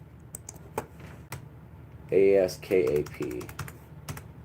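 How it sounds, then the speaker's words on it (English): A computer keyboard clatters in quick, close keystrokes, a few isolated clicks first and then a denser burst, while someone speaks briefly over the typing. "We're gonna try to type that in."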